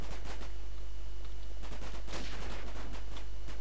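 Gunfire from a campaign in the war strategy game The Great War: repeated sharp shots and rapid bursts crackle throughout, layered over a constant low hum, with no one talking.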